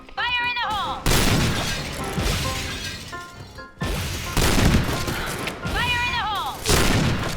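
Bursts of gunfire in the online shooter Point Blank, loud and close with sharp broadband blasts and crashes, interleaved with game sound effects and a player talking excitedly throughout.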